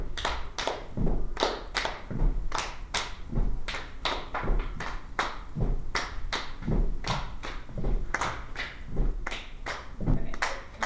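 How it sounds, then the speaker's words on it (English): A body-percussion rhythm of one foot stomp followed by two hand claps, repeated steadily many times in a row, with sharp close claps over dull thuds. "that one's going to be a stomp, 2 claps"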